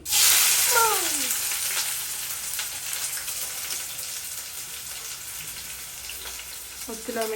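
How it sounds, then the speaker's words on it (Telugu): Onions and green chillies hit hot oil with a loud burst of sizzle that slowly settles into a steady, close frying hiss, with faint chirpy sounds at the start and a brief one near the end. "ఆనియన్స్ మిర్చి వేసేసాను"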